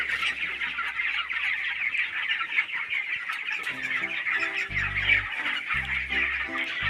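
A mixed flock of hens and roosters on a poultry farm clucks and squawks steadily nearby. Partway through, a low, broken droning hum joins underneath.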